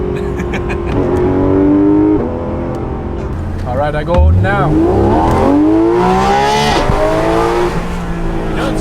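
A Porsche 991.2 GT3 RS on its stock exhaust revs and pulls hard, the engine note climbing through several gears with sweeping rises and a sharp shift around the middle, loud and close, while someone talks over it.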